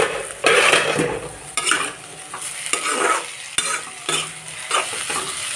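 Food fries and sizzles in a home kitchen pan while a spoon scrapes and stirs it in repeated bursts, with scattered metallic knocks against the pan.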